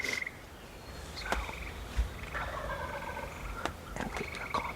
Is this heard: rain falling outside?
no